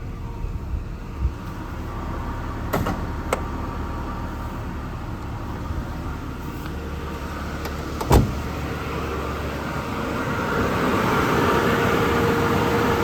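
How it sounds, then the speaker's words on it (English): A Jeep Cherokee engine idles steadily with the hood open, with broadband rumble and hiss and a few sharp clicks and knocks along the way, growing slightly louder near the end. "let me pop the hood here, and we'll take a look, let you hear the engine"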